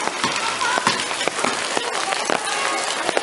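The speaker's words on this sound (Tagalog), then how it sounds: "Umuulan dito." Rain falls steadily during the rainy season in the Philippines, a dense hiss scattered with sharp drop taps on a nearby surface around a house.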